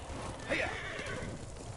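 A horse whinnies briefly in Ghost of Tsushima, a short rising neigh standing out from a steady game background of low rumble and ambience.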